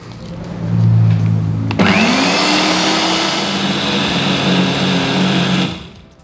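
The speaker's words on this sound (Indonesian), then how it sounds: "Saya mau memblender ininya, sahabatku." A kitchen blender grinds spices with water and coconut milk: the motor kicks on loudly, shifts pitch briefly as it catches, holds a steady dense whir for several seconds, then cuts off.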